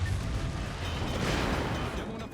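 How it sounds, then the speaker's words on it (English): A torpedo hits a battleship in World of Warships: a deep, rumbling explosion that fills the moment, loud and sustained, with no clear speech. "Oh god, I'm gonna take this torpedo."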